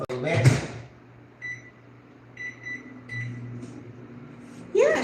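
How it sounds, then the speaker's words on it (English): A microwave oven running in a home kitchen, a low steady hum with a few short beeps and clicks, while someone talks briefly at the start and end. "I'm gonna put that in the microwave for a bit."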